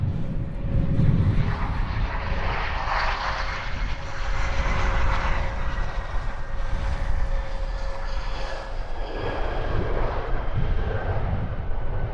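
A small airplane comes in to land at London Luton Airport, its engine a steady, fairly loud drone and rumble with wind noise, holding throughout.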